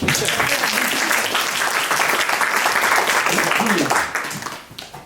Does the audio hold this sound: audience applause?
yes